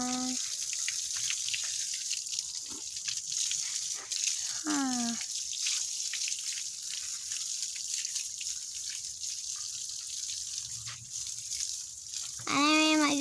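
Water runs steadily from a broken tap for a long stretch, a constant hissing splash with a few brief high squeaks and sounds breaking through.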